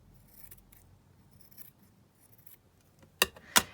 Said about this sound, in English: Let me just snip this curly edge off.